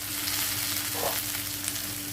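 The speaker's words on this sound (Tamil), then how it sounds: "இதில் பொடியாக நறுக்கி வச்சிருக்கிற கேப்சிகத்தை சேர்த்துக்கலாங்க." Chopped onions and capsicum fry in a pan for a restaurant-style fish Manchurian, giving a steady, close sizzle with a brief stirring scrape partway through and no talk.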